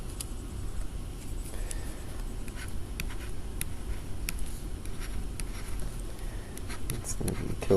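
A pen scratches across paper while a value is written down by hand, soft irregular strokes close by at low level.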